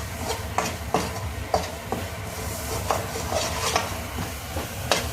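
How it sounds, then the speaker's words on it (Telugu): Mixed vegetables roasting in oil for a kadai-style curry are stirred with a utensil. Regular knocks and scrapes sound over a low sizzling bed, close up. "మన ఆయిల్లో బాగా రోస్ట్ అయినట్టు కలుపుకోవాలి."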